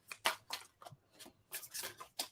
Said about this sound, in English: Gosh, I'm shuffling terribly.